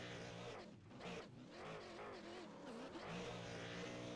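A number 70 Camry race car in an iRacing sim series doing burnouts, with a continuous loud engine roar that rises and dips as it revs, plus tire hiss throughout.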